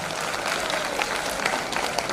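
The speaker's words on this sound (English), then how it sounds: "Give them a big round of applause." Steady applause from a crowd, dense clapping filling the whole moment at an even level.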